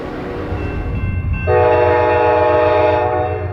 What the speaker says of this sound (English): Today, the Dash 8 engine is leading the Beech Grove haul